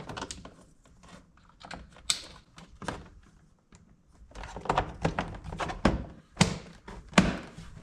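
Clicks and thunks of a Honda Fit door-card control panel being slid in and pushed down into place, a series of sharp plastic snaps and knocks at close range, irregularly spaced with short quiet gaps.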